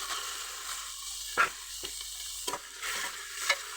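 Half a kilo of broiler chicken is being fried and mixed with reddish-browned onions and bay leaves, giving a steady close sizzle broken by about four sharp scraping strokes of the spatula in the pan.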